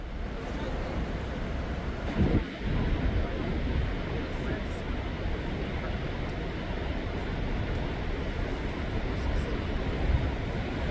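Near the American Falls at Niagara in freezing winter, a steady low rumble of falling water rolls on without a break, moderately loud and unchanging, with a brief bump of handling noise partway through.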